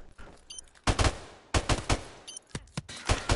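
Bursts of automatic gunfire in the video game Call of Duty Modern Warfare Remastered, with rapid rattling volleys and single sharp shots in uneven clusters, loud and close, separated by short quiet gaps.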